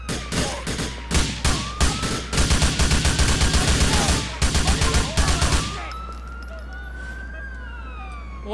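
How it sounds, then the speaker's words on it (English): Heavy gunfire in the LCPDFR police game: rapid bursts of many shots for about six seconds, loud and dense, then stopping abruptly as a siren wail carries on alone. "Holy shit, that's a lot of guns."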